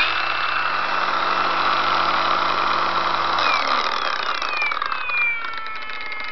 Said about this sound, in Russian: сейчас включу меньший режим